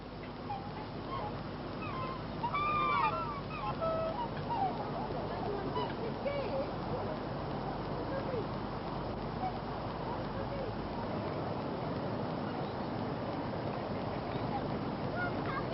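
Ducks and geese honk and quack around a park pond, a few distinct calls rising over steady wash of background noise and murmuring voices.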